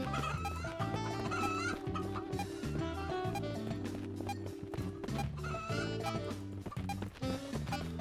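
A hen clucks repeatedly through dense, loud background music during a game, her calls blending into the steady musical bed.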